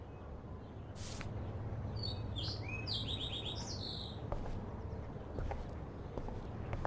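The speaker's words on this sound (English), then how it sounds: "that poor little bird has been trapped in here" Small bird chirping in Life is Strange, a few bright tweets and short trills in a quick burst near the start, then sparse faint chirps over a steady low ambient hum.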